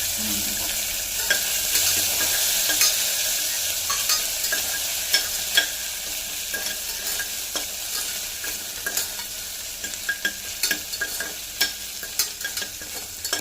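Crushed ginger and garlic fry in a pan with a steady close hiss, while a spoon scrapes and taps against the pan in repeated bursts that grow more frequent toward the end.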